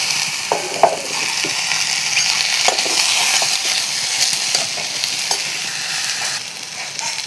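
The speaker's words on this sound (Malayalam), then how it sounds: "ഇനി ഇതിലേക്ക് വെണ്ടയ്ക്കും കൂടി ചേർത്ത് വഴക്കാം" Okra (lady's finger) sautés for sambar in a steady, fairly loud frying hiss, with scattered spatula scrapes and light clicks throughout. No voices.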